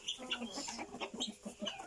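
Chickens, a rooster and guinea fowl in a henhouse give faint, busy clucking and chattering calls in quick overlapping bursts, soft and somewhat distant.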